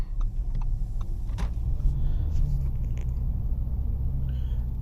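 A 2025 Audi A3 S-Line 35 TFSI's 1.4-liter turbocharged four-cylinder petrol engine hums low and steady, with a few faint clicks and knocks over the continuous rumble, heard at night.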